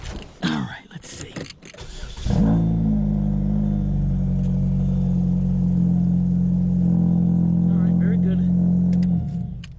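A 2007 Pontiac G6 with a 2.4L Ecotec engine, stainless header, high-flow catalytic converter and muffler, cranks and fires after a few knocks, then settles into a loud, steady idle held close up, with a voice briefly heard before it starts.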